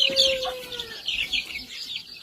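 Bantam hens and a young cockerel in a backyard flock, giving short nearby clucks and high chirping calls over a couple of seconds, with a brief tonal squeak at the start.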